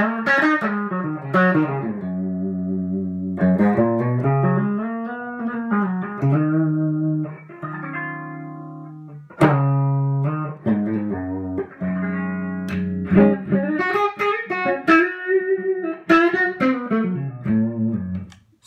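Electric guitar played through a Hermida Zendrive overdrive pedal into a 1976 Super Reverb amp, heard alone as a loud, sustained overdriven sequence of bending notes and chords with short pauses between phrases.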